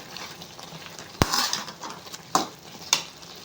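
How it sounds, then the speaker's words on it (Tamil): Wheat vermicelli gets stirred in a pot with a spoon, giving a few distinct scraping clinks against the metal over a soft background hiss, fairly quiet and close. "கிளறி விடுங்க"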